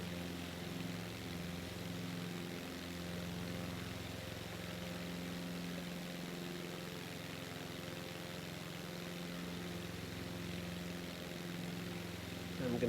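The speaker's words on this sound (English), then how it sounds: "backing down the engines just a little bit." Propeller plane engines in Microsoft Flight Simulator 2024 on Xbox, a steady droning hum with layered tones that holds constant throughout, fairly quiet, with no talk over it.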